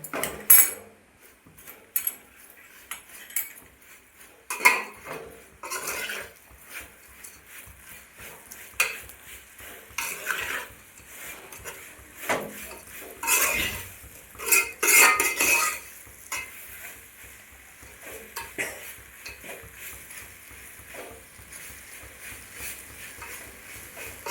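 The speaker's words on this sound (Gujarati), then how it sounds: "બરાબર હલાવવાનું, કારણ કે આ બટકાય એટલે જલ્દી મિક્સ ન થાય." A spoon scrapes and clinks against a pan while leftover roti mixture is stirred, in irregular bursts of clatter with soft sizzling between them, close up and with no voices.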